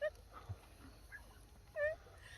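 A dog whimpers for treats with a few short, high whining cries spaced across a quiet outdoor moment, faint and close by, with no one speaking.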